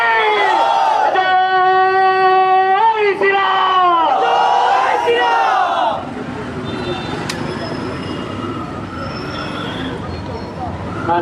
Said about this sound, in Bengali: আমাদের সামনে দিয়ে যে মিছিলটি এখন গেল বাংলাদেশ সনাতন পার্টির ব্যানারে